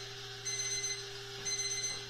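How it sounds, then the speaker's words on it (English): A kitchen timer alarm rings during steak cooking on a La Cornue Flamberge rotisserie range, two short bursts of rapid electronic beeping over a steady background hum. "So that was my timer"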